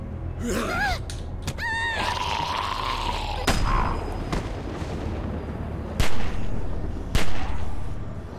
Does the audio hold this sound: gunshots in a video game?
yes